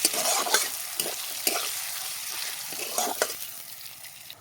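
Onions frying in a pan until reddish for a chicken and potato curry, a loud, dense, close sizzle with repeated stirring scrapes and spatters throughout, and no one talking.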